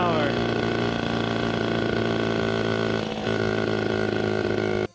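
Honda Express moped engine running steadily while riding at low speed, a continuous buzzing drone that holds close and loud before cutting off at the end.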